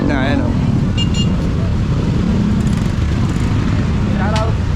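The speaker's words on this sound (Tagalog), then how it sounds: "sobrang traffic na, ayan o." Heavy street traffic in Tondo, a dense steady roar of cars and motorcycles close by, with engine whines and brief horn toots rising over it and voices mixed in.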